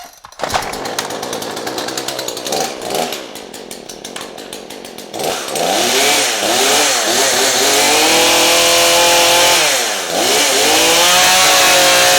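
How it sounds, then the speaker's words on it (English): A new chainsaw being started in a workshop: sharp rapid pull-cord sputters and coughs, then the engine catches and runs loud and close, revving up and down before settling into a steady roar. "I just hate starting a chainsaw for the first time"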